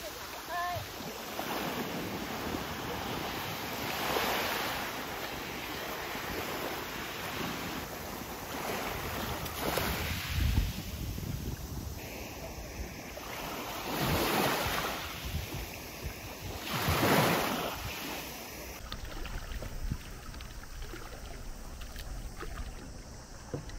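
Waves wash in on the Seto Inland Sea in slow recurring surges under steady wind noise, fairly faint and distant, with a boat or paddle sound nearby.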